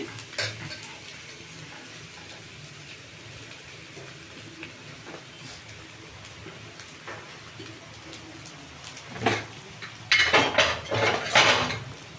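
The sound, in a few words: stir-frying rice in a pan for egg rice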